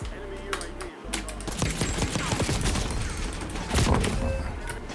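Video game gunfire on a used gaming PC: rapid bursts of shots rattle fairly loudly and continuously, mixed with close clicking from a keyboard.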